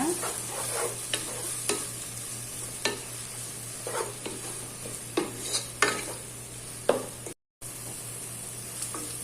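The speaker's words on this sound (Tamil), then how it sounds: "நல்லா வதக்கி விட்டுருங்க." Coriander and mint leaves are sautéed in a pan under a soft, steady background sizzle. Repeated scraping strokes of a spoon or spatula come at irregular intervals, close and fairly quiet, with a brief dropout near the end.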